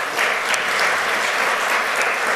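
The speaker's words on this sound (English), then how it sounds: "And let's give them a round of applause." Audience at a United Nations Association dinner event applauding, a dense, loud, continuous clapping from a room full of people.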